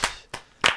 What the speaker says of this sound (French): Je m'applaudis.